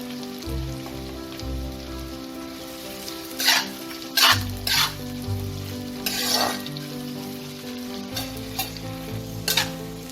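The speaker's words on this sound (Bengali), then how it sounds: "এই পেঁয়াজটাকে প্রথমে ভেজে নেব।" Finely chopped onions fry in hot oil for a katla fish kalia, with a steady crackling sizzle and several louder bursts of stirring and scraping in the pan, heard up close without talk.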